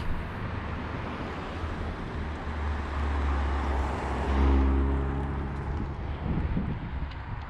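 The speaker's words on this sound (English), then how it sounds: "There's a lot of traffic along here sometimes." Road traffic on busy Hurricane Way roars steadily with cars passing close by, a broad rumble that swells midway as a heavier vehicle goes past, wind noise mixed in.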